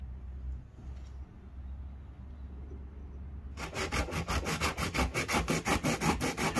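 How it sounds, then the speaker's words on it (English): A wooden knife handle is hand sanded, beginning with a low background rumble, then turning into rhythmic back-and-forth rasping strokes, loud and close, repeated steadily for the last few seconds. "Now that I have the rough shape, I'm starting to sand it down to start cleaning it up."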